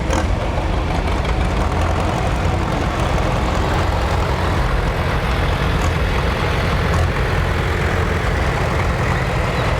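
Heavy diesel tractor engine running steadily at a cotton gin festival, a continuous low rumbling idle that stays loud and close throughout with no talking over it.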